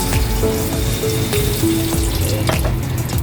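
Oil sizzles in a heated kawali frying pan while a salsa for sweet and sour lapu-lapu is prepared, a loud, close, unbroken hiss with a few light clinks through it.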